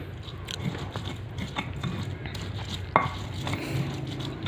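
A stone mortar (ulek) pounds and grinds chili, shallots and galangal, producing irregular soft crunching and knocking strokes at close range, with one sharper clack partway through.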